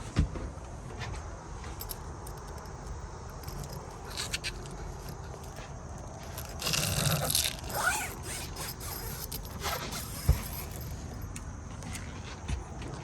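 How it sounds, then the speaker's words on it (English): A zipper is pulled along a camper van's insect screen in a short, raspy run, set against quiet rustling and faint handling noises nearby. "you can zip it from the top here"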